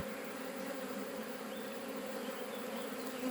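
Bees buzzing at a hive with nectar-filled comb, a dense continuous hum from many insects, steady and fairly faint throughout with no voices.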